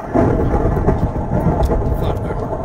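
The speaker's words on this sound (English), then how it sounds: "Thunder." Loud, close thunder rumbles continuously, a deep rolling roar with rain-like hiss layered over it and no voices.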